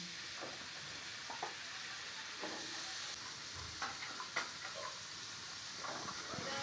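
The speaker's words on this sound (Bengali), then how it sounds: "গাজর আর ডিম ভালো করে ভেজে নিচ্ছি" Carrots and egg frying in mustard oil for a vegetarian khichuri: a steady, fairly faint sizzle, with scattered scrapes and taps of a spatula stirring the pan.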